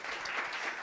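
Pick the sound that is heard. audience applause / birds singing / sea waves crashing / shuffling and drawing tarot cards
audience applause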